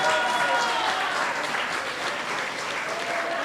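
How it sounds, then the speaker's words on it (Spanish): Congregation applause fills a church service, a dense continuous clatter of many hands clapping at steady volume for a few seconds. "Dale un aplauso a Cristo."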